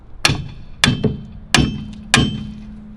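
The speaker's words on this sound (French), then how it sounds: "maintenant, je vais remettre des coups de marteau là, et puis voilà. Mais bon. Pour enlever le roulement." Hammer strikes on metal while knocking out a bearing: five sharp, ringing blows close by, two in quick succession and the rest spaced about half a second apart, each leaving a short metallic hum.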